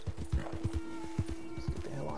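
Horse hooves clopping in a quick steady rhythm in the Red Dead Redemption video game, close and fairly loud, with a faint tone sustained underneath.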